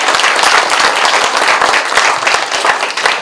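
A crowd at a local county-mayor candidates' debate in Jeongseon breaks into dense, loud, continuous applause, many hands clapping at once without pause.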